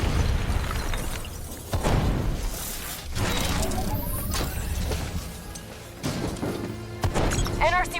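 Rogue robots detonating in the Call of Duty: Black Ops 3 video game: a series of heavy explosive bursts and metallic crashes at irregular intervals over churning mechanical rumble, ending with chirpy electronic noises.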